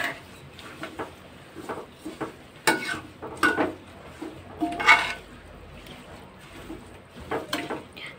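A homemade hair-growth remedy mixture is stirred in a pan while it is being cooked down until blackened like charcoal. Irregular scrapes and light clinks sound up close over a faint sizzle, with no one talking.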